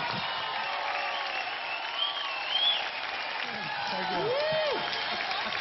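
Studio audience at an India's Got Talent show applauding a talent act, steady clapping with cheering swells, music playing and voices underneath.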